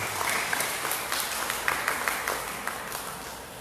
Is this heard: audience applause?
yes